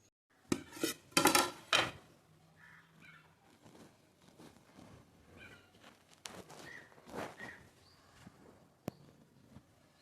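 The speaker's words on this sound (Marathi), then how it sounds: "थोडा वेळ चाळणी ठेवून मी यातलं पाणी जे आहे ते अशा प्रकारे निथळू देणार आहे आणि नंतर त्या पातेल्यामध्ये झाकून ठेवणार आहे" A metal sieve and pot holding soaked finger millet clank and rattle sharply for a couple of seconds, then softer handling taps and a faint scrape follow, with one last crisp knock near the end.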